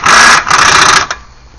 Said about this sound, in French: Alors, je l'approche à la clé à choc.